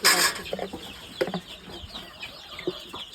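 Domestic hens on a small home farm cluck in short, scattered bursts, fairly faint and close by, with a brief louder rustle at the start.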